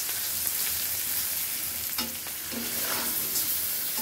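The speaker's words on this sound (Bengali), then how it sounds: "আর এখানে কড়াইয়ে পেঁয়াজ ভেজে নিচ্ছি।" Onions sizzle in a kadai, a bright steady hiss of frying with a few stirring clinks and scrapes, close and continuous without speech.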